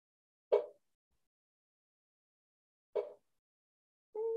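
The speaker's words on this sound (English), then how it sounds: "If I didn't know that this was the call of a striped marsh frog" A striped marsh frog calls in a backyard garden bed, giving short single popping notes spaced a couple of seconds apart, clear and close against a silent background.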